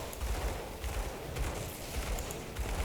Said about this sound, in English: from the Gauntlets of Ignaffar to cause the explosions on attack is pretty neat